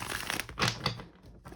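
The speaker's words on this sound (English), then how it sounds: "If I can get the cards to shuffle correctly." A deck of tarot cards is shuffled in a quick close burst, the papery riffle and rustle of the cards running for about a second before fading.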